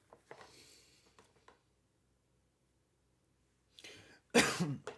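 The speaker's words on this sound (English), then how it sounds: "Coughing up a storm." A person coughs in a few short, rough bursts, then falls quiet before a louder, harsher fit of coughing close to the microphone, with no speech.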